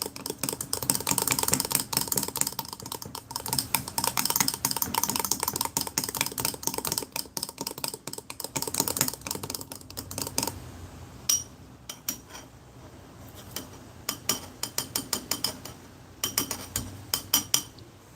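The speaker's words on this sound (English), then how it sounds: "I'm still going to stir it because I don't think it all mixed up very well." Plastic spoon scraping and stirring beef stroganoff inside a US military MCW ration pouch, rapid crinkly clicks and rustles packed densely at first, then thinning into sparser, separated scrapes, close and fairly loud with no talk.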